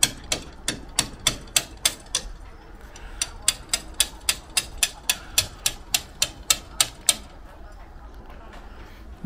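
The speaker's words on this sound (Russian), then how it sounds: "И дальше будем забивать арматуру 12-ю." A hammer drives 12 mm rebar into a drilled hole in a facade, striking in a long run of sharp, ringing metallic blows at a steady, brisk rhythm close by, with a brief pause partway through.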